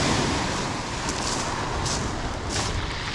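Sea waves wash onto a beach at sunset on the Black Sea coast at Lazarevskoye, Sochi. There is a constant broad roar with a few soft surges of surf, and faint wind and distant background noise mixed in.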